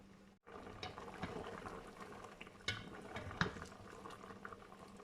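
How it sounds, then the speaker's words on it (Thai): Soup in a covered pot at a low rolling boil, a faint steady bubbling with soft pops and clinks, heard close and alone. "ปิดฝาไว้ให้เขาเดือดอีกรอบ"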